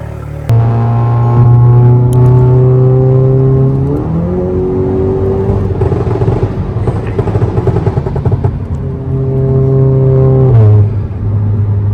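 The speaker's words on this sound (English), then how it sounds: "We have a cold start on the Golf GTI Club Sport. Sounds amazing." A Volkswagen Golf GTI Clubsport engine cold-starts: it cranks and fires up loudly, revving high then settling into a steady idle, with a second rev near the end.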